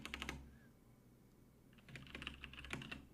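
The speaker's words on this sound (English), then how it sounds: "I don't know why I'm typing this all up." Quiet typing on a computer keyboard, with a quick burst of key clicks, a pause of near silence, then a longer run of rapid close taps.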